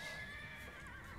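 A single horse neighs in the video game Age of Empires 2, a short, clear whinny standing alone over faint game ambience.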